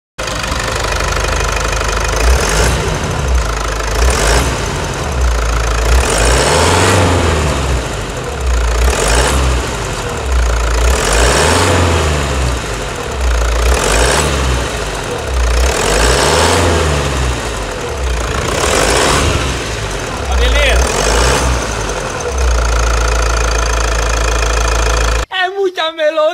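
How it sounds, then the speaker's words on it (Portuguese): A Toyota Hilux 3.0 engine idles after decarbonization, a steady loud mechanical rumble with a faint rhythmic knock that runs close and continuous for the whole stretch, cutting off abruptly near the end. "A melodia do motor depois do serviço?"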